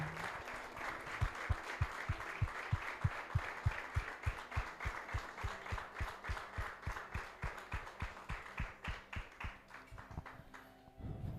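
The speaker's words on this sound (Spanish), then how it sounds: "Denle un fuerte aplauso al Señor" A church congregation claps in a steady, even rhythmic beat during worship, a long run of evenly spaced claps heard faintly from a distance with little talk.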